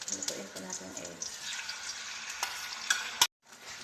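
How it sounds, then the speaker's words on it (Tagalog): Egg frying in a pan with potatoes and onion, a soft sizzle with scraping and stirring clatter from a utensil, a few sharp knocks near the end, moderately quiet. "Lutuin po natin yung egg."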